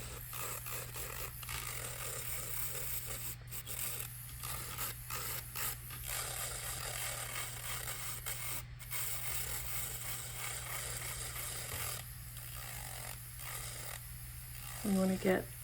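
An electric nail drill files the top layer of polygel off fingernails at close range, giving a steady low motor hum under continuous gritty scraping with brief pauses throughout.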